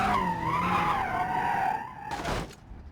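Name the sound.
stock car skidding and spinning out in video game BeamNG.drive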